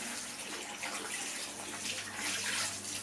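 Hot water runs from a tap onto a cleaning cloth, a steady, soft rushing flow that holds evenly throughout without talk.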